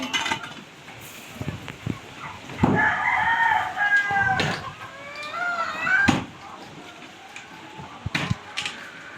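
Roosters crow twice in long wavering calls, with clucking and scattered clicks around them in a noisy outdoor setting.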